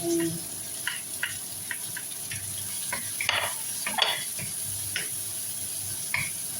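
Pork meat for pakbet sizzles as it goes into a hot pan, a steady hiss broken by scattered metal clinks and scrapes of utensils against the cookware.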